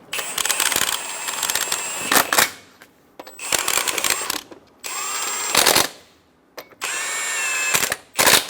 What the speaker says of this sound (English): Snug the lug nuts down.